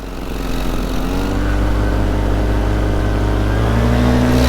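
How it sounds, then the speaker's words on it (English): A paramotor engine runs on the ground in high wind, giving a loud, steady, close buzzing drone that holds an even pitch throughout with a slight rise near the end. "This is why you want to leave the motor running when you land in high winds."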